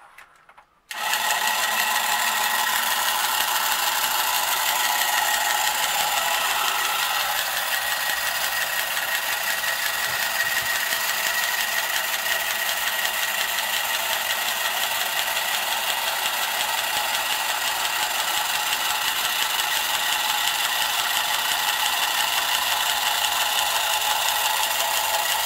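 Marx Moon Scout toy helicopter mechanism running with worn gears, a steady whirring, rattling mechanical drone that starts abruptly and continues loud and close for the whole stretch without talk.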